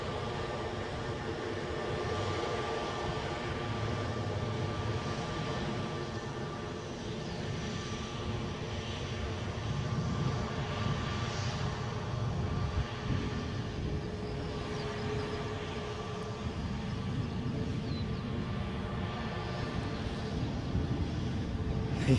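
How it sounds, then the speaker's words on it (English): An EasyJet airliner on a very short final approach to Edinburgh airport, a continuous broad engine roar that holds steady and slightly swells over about twenty seconds, heard from outdoors at a distance with no talking. "This is a EasyJet on a very short final."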